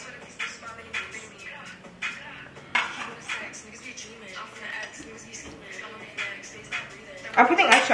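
Garlic goes into a pan during home cooking, with repeated clinks and scrapes of utensils against cookware up close and a busy, clattering rhythm throughout.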